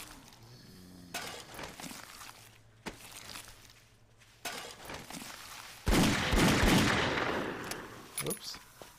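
Gunfire in the survival game 7 Days to Die crackles in sharp bursts, with a heavier, louder volley of shots and shattering noises midway and a few scattered cracks after.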